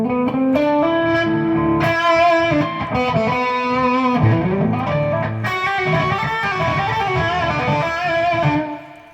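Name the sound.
distorted guitar playing the natural minor (Aeolian) scale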